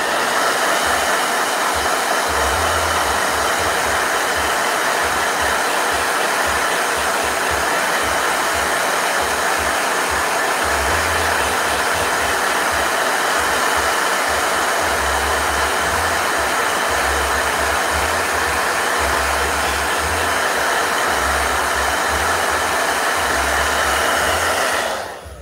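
A blow dryer runs loud and close for about 25 seconds, a steady, unbroken whooshing roar with a low fluttering hum underneath and no voices.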